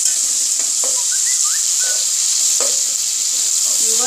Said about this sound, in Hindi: अब मैं इसमें लहसुन अदरक 1 टेबलस्पून डाल दूँगी।